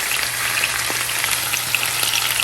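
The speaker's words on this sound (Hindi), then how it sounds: "मैं 1 टेबलस्पून जो है इसमें पिसा हुआ लहसुन का पेस्ट डाल देंगे।" Ground garlic paste hits a hot pan and sizzles loudly and evenly, a close, dense frying hiss with faint stirring scrapes and no voices.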